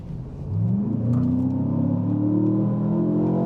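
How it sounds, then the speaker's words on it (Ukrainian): An off-road car's engine revs hard under full throttle, the pitch climbing and holding in a loud, close, sustained roar with no talk. "коли ти натискаєш кнопочку на кермі і даєш газ в підлогу"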